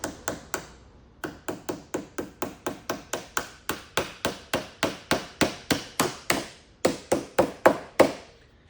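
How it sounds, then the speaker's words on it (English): A hammer drives nails into a vintage trailer door, about two dozen sharp, close strikes in quick steady rhythm, grouped in bursts with a short pause early on. "So let's put in a couple nails."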